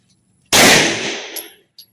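A single loud, sharp handgun shot cracks at an outdoor shooting range in Norzagaray, Bulacan. Its tail decays over about a second, and a faint metallic clink follows.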